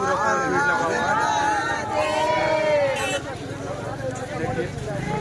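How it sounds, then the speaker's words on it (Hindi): A dense crowd at the 2025 Maha Kumbh in Prayagraj, packed into a jam: a continuous babble of many voices fills the air, with someone talking close over it. "बहुत ज़्यादा भीड़ है यहाँ, आप देखिए ये पूरा जाम लगा हुआ है।"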